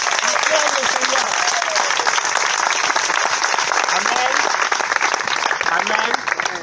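Church congregation at a French-language seminar applauding the Lord, a dense, continuous wash of clapping with crowd noise and shouted voices over it throughout.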